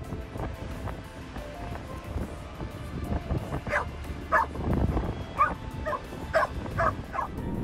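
Several sharp, excited dog barks and yips in quick succession, close by, over a rumbling background of wind or surf.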